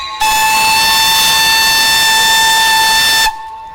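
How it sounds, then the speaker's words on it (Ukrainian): A loud, sustained narrow-gauge steam locomotive whistle blows a single steady note for about three seconds, then cuts off abruptly. "Це радо вітає гостей паротяг Колочавської вузькоколіки"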